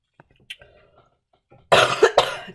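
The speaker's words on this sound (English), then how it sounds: "Sorry about this cough." A lecturer gives a burst of two or three harsh, close coughs after a couple of seconds of faint, quiet room noise with small clicks.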